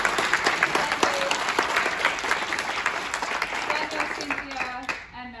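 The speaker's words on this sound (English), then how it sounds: "can we just have another round of applause?" An audience at a STEM video challenge winners' event at PAX Melbourne breaks into a sustained round of applause, dense clapping that fills the clip and then tapers off at the end.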